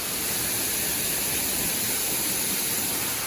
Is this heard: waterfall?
yes